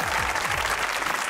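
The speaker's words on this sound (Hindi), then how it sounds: "तालियां।" A studio audience at a Pakistani comedy talk show claps in a short, dense burst of applause.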